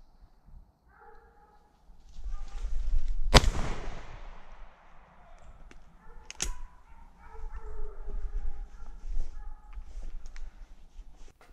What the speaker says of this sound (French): Voilà le tir d'une chevrette.